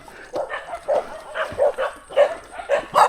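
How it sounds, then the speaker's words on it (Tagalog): Several dogs bark in quick repeated bursts close by at a nature camp, a rapid irregular series of yaps and woofs over about three seconds. "balak pa akong ubusin ng mga aso dito"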